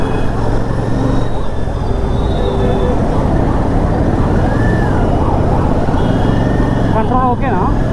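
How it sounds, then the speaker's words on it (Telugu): An ambulance siren wails faintly from behind a moving Royal Enfield Classic 650 motorcycle, its rising and falling tone mostly buried under steady wind and engine roar. "వెనకాల అంబులెన్స్ వస్తున్నట్టుంది."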